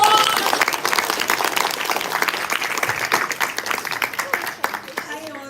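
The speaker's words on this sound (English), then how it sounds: "Please give her a round of applause." Audience applause at a Toastmasters speaking event welcoming a speaker to the stage, dense steady clapping throughout that slowly thins toward the end, with some voices mixed in.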